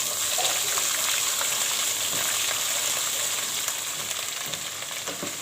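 Three tablespoons of ginger garlic paste frying in hot oil for chicken biryani, a steady dense sizzle with faint stirring that runs throughout and eases slightly toward the end.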